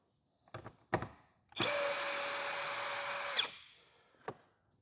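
A cordless power tool spins out a 10 mm bolt on a 2025 Dodge Durango door, with a few clicks and handling taps, then about two seconds of loud, steady whirring, followed by a single tap.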